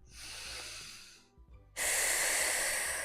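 Deep breathing during a gentle beginner Pilates core session: a long, airy inhale, a brief pause, then a loud, forceful breath with steady hissing air, close and with no talk.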